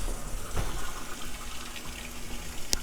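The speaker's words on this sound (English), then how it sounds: "make sure you turn your water on first" Water rushes steadily into a Kenmore washer through its inlet valve, a constant close hiss with a faint clunk partway through and a brief sharp tick near the end.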